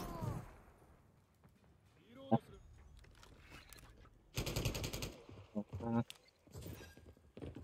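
Stockless LMG firing in Call of Duty MWIII, two bursts of rapid automatic gunfire cracking out in quick succession later on, with a few single shots and Japanese commentary talking over the action.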